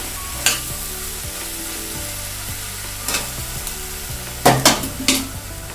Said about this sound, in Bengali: সামান্য একটু জল অ্যাড করবো বন্ধুরা